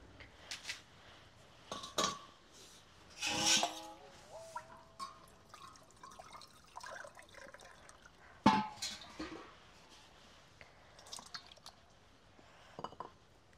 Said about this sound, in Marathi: परत हे पाणी फेकून परत दुसऱ्या पाण्याने एकदा परत धुवून घेणार आहोत।